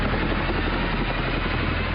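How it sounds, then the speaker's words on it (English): A military helicopter hovers close by, its rotor giving a loud, steady, rapid thumping chop over a dense roar with no voices. "Admiral McCraven was on video link with the White House when the helicopters landed in Jalalabad."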